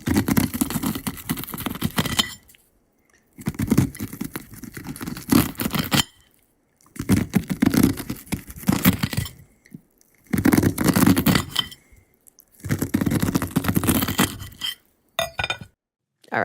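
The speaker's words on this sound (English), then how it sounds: "That was the sound of my dad cutting kernels off of a corn cob." A knife scraping and slicing kernels off a corn cob on a plate, heard close in several separate bursts of crisp cutting and clinking, with short silent gaps between them.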